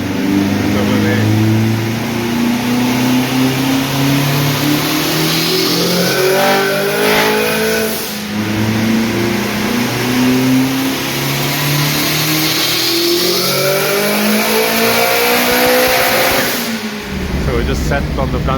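Car engine revving hard on a chassis dyno at a tuning night, its boost controller overshooting; loud, sustained rising and falling engine tones with repeated pulls, then an abrupt drop near the end.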